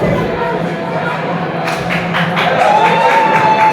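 A crowd at a Tapout Wrestling show reacts to wrestler Antler Dash, a loud roar of cheering, shouting and scattered claps rising in the second half, with a commentator talking over it.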